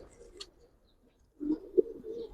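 A pigeon coos nearby in a couple of low, soft, throaty phrases, with a brief quiet pause between them.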